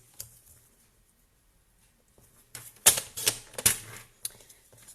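A paper trimmer slices through card stock in a quiet room, giving a few soft, quick clicks and scraping strokes after a near-silent pause.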